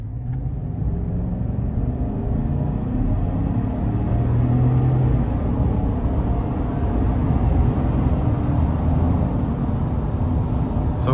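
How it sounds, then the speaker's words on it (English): A 2026 Chevy Silverado 1500 Custom Trail Boss with a naturally aspirated 5.3-litre V8 and dual exhaust pulls hard under acceleration, a steady deep engine rumble heard from inside the cab, loud and continuous with no talk. "I love the sound of the dual exhaust compared to the single"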